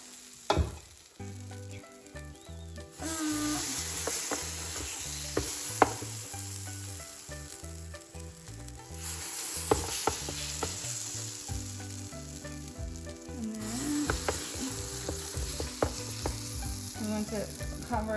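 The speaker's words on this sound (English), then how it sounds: "just open up our waffle iron, and then you just spoon it on there." Gluten-free waffle batter cooking in a waffle iron gives off a steady, close hiss and sizzle that swells when the batter goes on, scattered with small crackles and faint clicks, with no voices.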